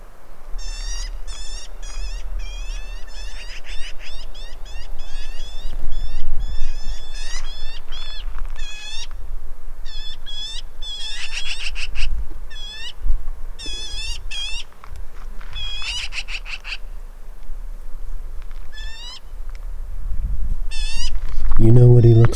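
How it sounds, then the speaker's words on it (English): Birds at an RV campground in Rocky Mountain National Park give repeated chirpy, squeaky calls in quick bursts over steady outdoor background hum, sounding fairly close, with a low rumble entering at the end. "Those birds make the funniest noises."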